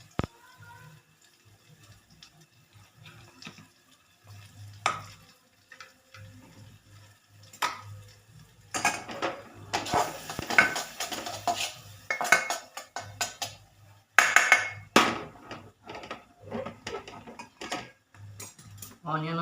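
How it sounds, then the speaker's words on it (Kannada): Onion fries in a pan while a spoon stirs it, giving intermittent metallic scrapes and clinks against the pan with quiet gaps between, and a low background hum; a few bursts of busier clattering come mid-way. "ಆನಿಯನ್ ಚೆನ್ನಾಗಿ ಫ್ರೈ ಮಾಡ್ಕೊಳ್ಳೋಣ ಫಸ್ಟು"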